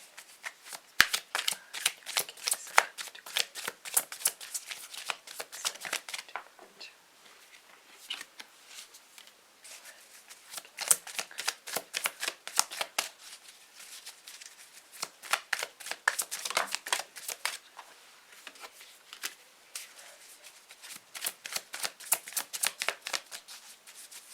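Tarot cards shuffled by hand during a pick-a-card reading, giving repeated bursts of dense riffling flutter separated by brief pauses, close and moderately loud with no talking.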